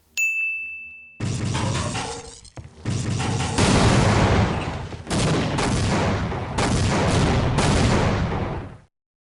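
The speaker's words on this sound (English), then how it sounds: "Why does that cause a chain of reaction to make everything explode?" Gunfire and chained explosions from the shooter game Half-Life: Opposing Force come as a string of loud blasts and dense bursts of fire, briefly broken by gaps, after a short metallic ding at the start.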